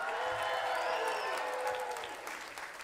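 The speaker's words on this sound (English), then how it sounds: "let's hear a big round of applause" Audience applause at a live comedy and magic show at the Creek: a dense, steady wash of many hands clapping that holds through the clip and tapers slightly near the end.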